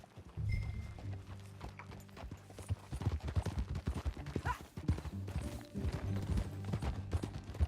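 Rhythmic clip-clop of horse hooves at a steady riding pace over a low musical drone, fairly close and continuous, from the video game Red Dead Redemption 2.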